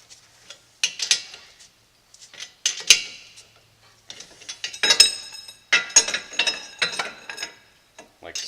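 Metallic ratcheting and clinking in short irregular bursts as a wrench tightens a part on a Mazda Miata steering rack, close and fairly crisp, with quiet gaps between strokes.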